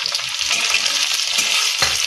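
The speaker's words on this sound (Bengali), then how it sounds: "দিয়ে দিলাম পেঁয়াজটা কিন্তু লাল লাল করে ভাজাই হয়ে গেছে এবারে দিয়ে দেবো টমেটো কুচি" Chopped tomato drops into reddened fried onions in hot oil while preparing a prawn bhuna, giving a loud, dense, continuous sizzle with some stirring, close up and alone.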